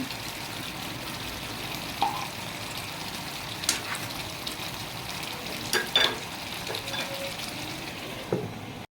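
Ghee sizzles steadily in a pan while chitol fish kofta is being cooked, a continuous close frying hiss with occasional stirring clinks and scrapes.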